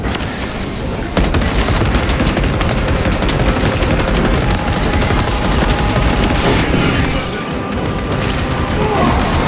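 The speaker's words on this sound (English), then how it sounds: "Throwing frag grenade!" Chaotic combat in Warhammer 40K Space Marine 2 as a frag grenade goes off amid sustained heavy gunfire, with loud, dense bursts and a continuous barrage of shots and blasts throughout.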